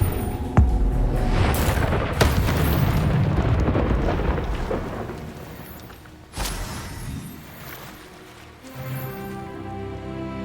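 Spell casting and magical explosions in the Hogwarts Legacy video game: a sharp boom opens a dense, rumbling roar of blasts that swells again midway and fades toward the end, loud and continuous with no talk.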